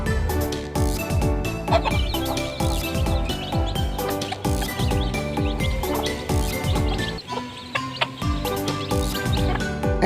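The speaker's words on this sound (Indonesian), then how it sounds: "Hen." A hen clucks in short repeated calls, fairly faint beneath loud, busy background music that plays throughout.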